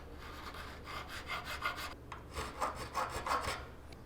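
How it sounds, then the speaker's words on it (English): A hand file rasps against a metal part of a handmade katana, first in a few short strokes, then after a brief pause in a quicker run of repeated scraping strokes, close and fairly quiet with no voices. "I have some filing to do."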